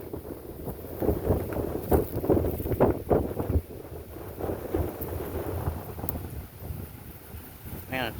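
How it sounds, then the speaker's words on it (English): Strong wind gusting over a big forest bluff in Shawnee Forest, southern Illinois, a loud rushing roar buffeting the microphone in uneven bursts, with someone briefly talking underneath. "It's extremely windy out today, and we're on top of a big bluff."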